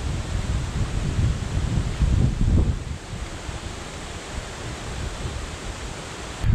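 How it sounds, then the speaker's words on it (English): Strong winter wind blows outdoors by the water, roaring as a dense, loud rush with gusts swelling and buffeting the microphone, with no talk. "The wind has really picked up."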